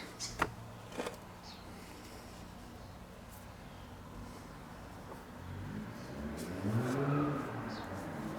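A car passes outside and revs, a faint engine rising and swelling in the second half after a couple of nearby knocks, distant and muffled.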